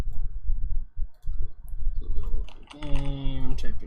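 Rapid clicking keystrokes on a computer keyboard while coding a game, steady and close, with a few bright electronic tones sounding over the typing near the end.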